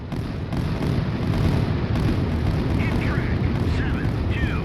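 Aircraft-dropped bombs exploding on fuel installations in the Sea Power naval combat game, heard as a continuous loud rumbling roar of blasts that runs throughout, with faint chirping higher sounds near the end.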